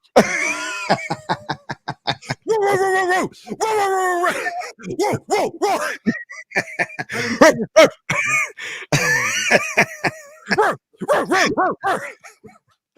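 People imitate dogs barking, voicing a rapid string of short, loud bark-like yelps and growls, bursts clustered together with brief gaps between them.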